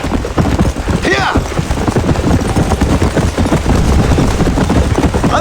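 Rapid galloping horse hoofbeats from a video game pound along beneath a dense, busy wash of noise, steady and loud throughout.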